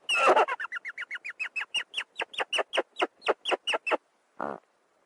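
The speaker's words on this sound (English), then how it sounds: "The hyrax is, well, they're a mammal that has a rare phenomenon, which is singing." A rock hyrax sings a long series of rapid, rising squeaky calls that grow louder and more spaced out, followed by a pause and one final lower, harsher call.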